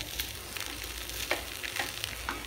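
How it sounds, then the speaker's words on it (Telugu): Poha with turmeric is stirred in a pan, a soft steady sizzle with light scraping strokes of a spoon at an uneven rhythm, close and fairly quiet. "సో ఇప్పుడు పసుపు వేసాక బాగా మిక్స్ చేసుకోవాలి"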